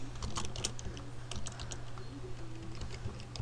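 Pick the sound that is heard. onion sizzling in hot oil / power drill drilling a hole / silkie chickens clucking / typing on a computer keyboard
typing on a computer keyboard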